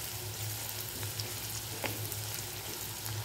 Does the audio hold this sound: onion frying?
yes